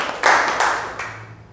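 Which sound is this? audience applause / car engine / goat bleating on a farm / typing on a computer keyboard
audience applause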